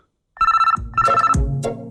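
A telephone rings in two loud electronic bursts close by, each a bright sustained tone, with a lower buzzing layer joining during the second ring, in an indoor comedy scene.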